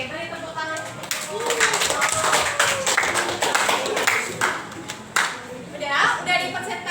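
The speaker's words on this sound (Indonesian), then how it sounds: "Oke, beri tepuk tangan." A small group of classmates claps hands in a classroom for several seconds, loose and uneven, close by, with voices talking over the clapping.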